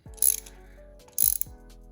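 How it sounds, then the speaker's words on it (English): A ratchet cranks a spark plug loose from a car engine in two close, loud bursts of rapid pawl clicking, with a brief quiet gap between them. "put your ratchet in and crank that, just like that, and the spark plug is coming out nice and easy"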